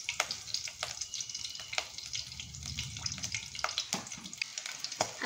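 A bay leaf broken in two and a chili cut into pieces sizzle in hot oil while a spicy Malvani chicken is cooked, a close, steady frying crackle with small pops and light stirring.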